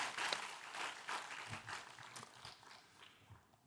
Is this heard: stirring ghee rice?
no